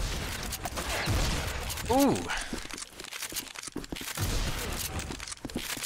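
Rapid, loud lever-action shotgun blasts with mechanical cycling clicks ring out in the retro shooter Dusk's endless arena, firing continuously under a man's occasional exclamations.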